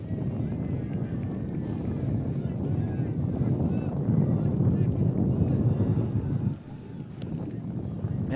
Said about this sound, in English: And it's windy up there too, Carter.